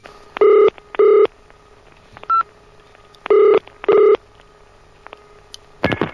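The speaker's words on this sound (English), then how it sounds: "Takes hold of phone, calls studio for impromptu interview with John Brewster" A telephone is dialled to call a studio, with loud, crisp touch-tone beeps in an uneven sequence of five separated by short pauses, ending in a brief click and rustle.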